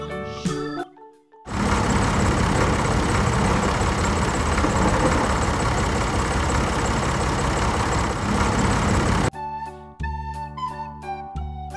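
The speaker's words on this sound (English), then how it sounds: "Tractor." A tractor engine idles in a steady, loud, rough rumble for about eight seconds, standing alone between brief musical sounds before and after.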